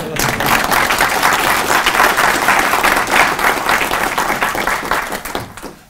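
At a professorial inauguration, an audience applauds the professor's family with dense, sustained clapping that stays loud and steady before tapering off at the end, with no speech over it.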